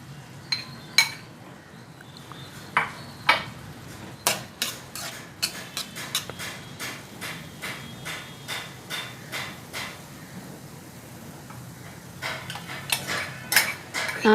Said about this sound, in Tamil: இப்போ நான் சமைச்சு வச்சுருக்க சோறை இதோட மிக்ஸ் பண்ண போகிறேன்